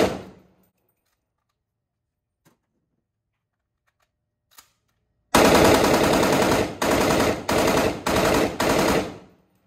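A machine gun on an endurance test fires long bursts at close range: one sustained burst, then four shorter bursts with brief pauses, all loud after near silence.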